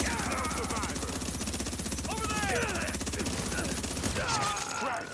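Sniper and automatic gunfire crack through a video game firefight in a dense, continuous barrage of rapid shots, with brief radio-like chatter woven in under the shooting.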